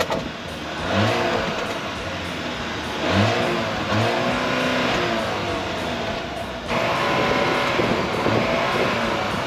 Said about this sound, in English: Start her up. Woo! Let's rev it up